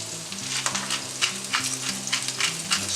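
Mushrooms, carrots and other vegetables seasoned with salt and pepper sizzle steadily in a pan while being stirred, a close, continuous frying hiss with scraping bursts throughout, no talking.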